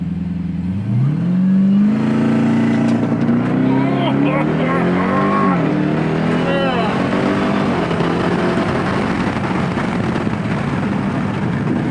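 A 2021 Dodge Durango SRT engine roars through a full-throttle launch from a brake-held start, its loud rising tone climbing and shifting through gears over about twelve seconds, with voices reacting over it.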